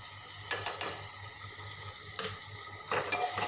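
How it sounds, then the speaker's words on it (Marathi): Cabbage curry spices with red chilli powder and salt being stirred in a pan for a Marathi dry cabbage bhaji, giving soft scraping spoon strokes over a steady low sizzle, with a few sharper clicks of a utensil. "हे सर्व असं छान मिक्स करून घेते एक चमच लाल मिरची पावडर आणि चवीपुरतं मीठ घालत आहे"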